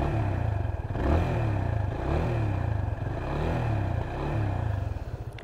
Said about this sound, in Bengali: এই হচ্ছে এক্সস্টের সাউন্ড।